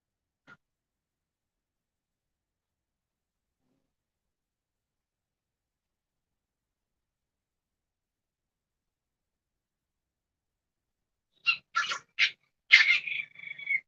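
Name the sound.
puppies making noise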